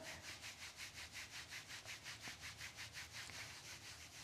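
Hand rubbing the outside of a knee during a pregnancy yoga session, a faint close rhythmic swishing repeated steadily about four times a second, with no talk.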